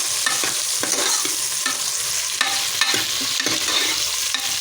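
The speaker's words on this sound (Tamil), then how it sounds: "அடுத்தது கத்திரிக்காயும் ஆட் பண்ணிப்போம் நல்லா வதக்கி எடுத்துருவோம்" Okra and brinjal sauté in hot oil with a dense, continuous sizzle, while a utensil stirs and scrapes the pan at intervals; close and fairly loud, with no talking.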